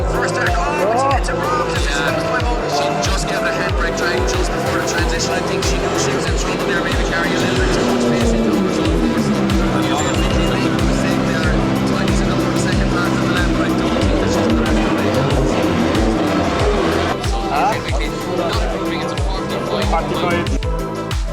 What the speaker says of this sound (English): Just gave it a handbrake drag just before the transition.